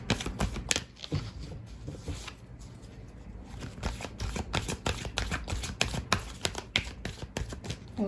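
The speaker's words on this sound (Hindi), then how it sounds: "मैं कार्ड की शफल कर लेती हूँ, शफलिंग करती हूँ।" Tarot cards are shuffled by hand in a rapid, continuous flurry of crisp riffling clicks and soft slaps, close and fairly quiet, with brief pauses between bursts and no talking.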